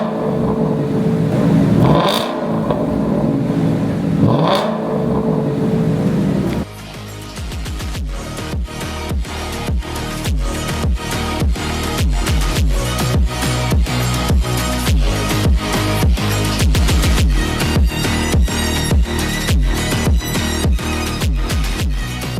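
A freshly rebuilt BMW engine after a full rebuild and service turns over and catches, then settles into a loud, steady idle with a rhythmic mechanical ticking that carries on at close range, with no voices.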